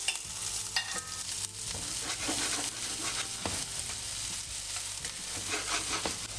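Chopped onion frying in a little oil and butter in a pan, a steady continuous sizzle with occasional stirring scrapes and clinks, close and moderately loud.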